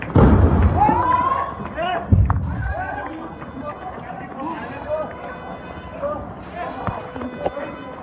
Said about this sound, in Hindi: ये मिसाइल यहीं पर गिरती है, बिल्कुल नजदीक में, शायद अपने निशाने के